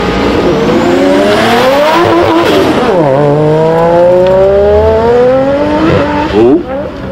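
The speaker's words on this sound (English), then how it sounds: "It's clearly a turbo 350Z." A turbocharged Nissan 350Z launches hard at the Heveningham Concours of Elegance 2024, its loud, close engine note climbing steeply through rising revs and a gear change, then pulling away.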